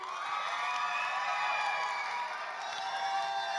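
A large audience at a children's Agam Inong Cilik Aceh art festival cheers and claps for a young girl contestant, a steady, dense wash of crowd noise that holds without a break.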